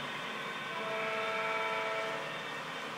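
Florida East Coast model train engine running on a home layout with wireless control, a steady rolling hum with faint whistle-like tonal lines rising briefly in the middle, close and continuous.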